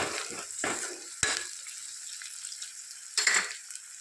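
Egg tomato curry being stirred in a pan: a few scraping strokes of a spoon against the pan over a soft background sizzle, with brief louder clatters near the start and toward the end.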